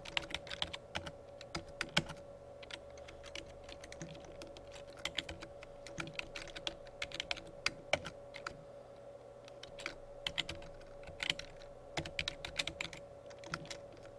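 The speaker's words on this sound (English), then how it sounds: "Now I'm going to type in my recipient's" Quiet, steady typing on a computer keyboard while entering a business letter in Microsoft Word 2007: irregular bursts of crisp key clicks run throughout over a faint constant electrical hum.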